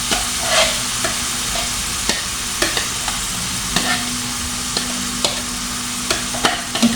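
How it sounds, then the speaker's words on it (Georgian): Onion frying and sizzling in a pan, stirred every so often with sharp scrapes and clinks of a utensil over a steady close hiss, with no talking. "ეხლა ამას გადავხრაკავ კარგად."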